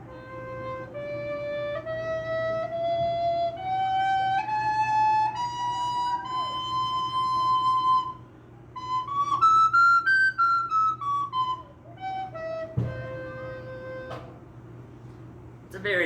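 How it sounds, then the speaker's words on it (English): A plastic soprano recorder plays a bright, cheery melody of clear sustained notes stepping upward, then a short run of quicker, higher phrases, with a low steady hum underneath and a brief clunk near the end. "And at the same time, I am going to pull out this plastic soprano one."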